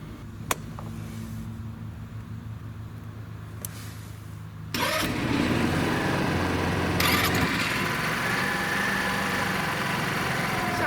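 After a few faint clicks, a small 125cc scooter engine cranks and catches, then settles into a steady, deep, throaty idle nearby with one brief blip of revs.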